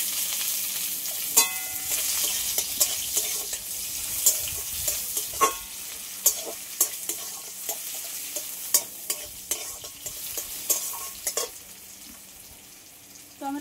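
Chopped onion hits hot oil tempered with cumin seeds and a bay leaf, giving a steady close sizzle broken by frequent sharp spatula scrapes and taps at an uneven pace.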